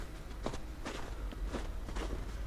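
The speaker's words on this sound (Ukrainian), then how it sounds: "Ось чуєте, друзі, який мокрий сніг" Footsteps crunch and squelch through soft wet snow at a steady walking pace, about two steps per second, over a low outdoor rumble in a resort town after heavy snowfall.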